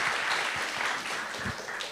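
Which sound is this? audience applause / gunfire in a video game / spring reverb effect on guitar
audience applause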